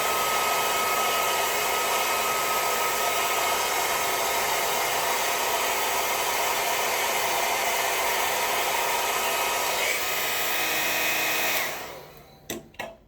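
Hair dryer on its cool shot setting blown steadily onto a beard to set it, a loud, close, continuous whoosh that cuts off near the end, followed by a couple of faint knocks.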